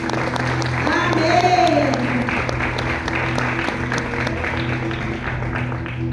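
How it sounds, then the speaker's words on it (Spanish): Church congregation applauding during a women's special service at a temple in Cuautla, Mexico; steady loud clapping across the whole span, joined by a hum and a voice calling out over it. "¿Por qué no le da un aplauso a Dios?"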